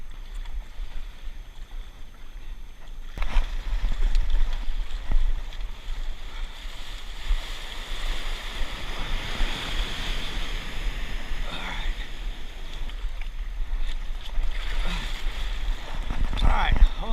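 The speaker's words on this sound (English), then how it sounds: "All right, let's go play on the beach." Waves and surf wash steadily onto a beach, a broad continuous rush that swells after the first few seconds and stays fairly loud, with brief voices and a dog's movements faintly mixed in.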